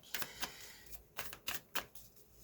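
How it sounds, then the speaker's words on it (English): Tarot cards shuffled by hand in a few quick, crisp riffle bursts, close and fairly quiet, with short gaps between them and no talk. "You shuffle a little bit. I'll shuffle a little bit."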